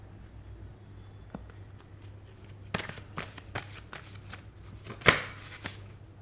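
Tarot cards being shuffled by hand, soft riffling and tapping taps close up, with one sharper snap as a card flies out of the deck near the end.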